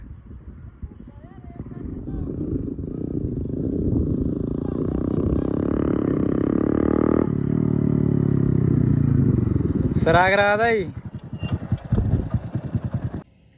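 A motorcycle engine runs with a steady, rough rumble that swells and holds for several seconds before fading. Someone speaks briefly over it at the start and more clearly near the end.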